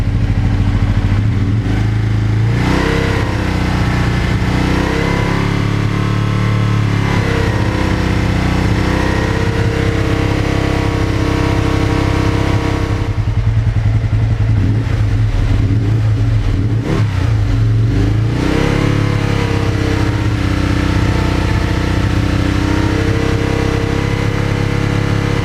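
Aprilia RSV1000R Factory motorcycle engine held at a steady 4,000 RPM during throttle body vacuum measurement, a loud continuous drone with a constant pitch and slight fluctuations, with no speech.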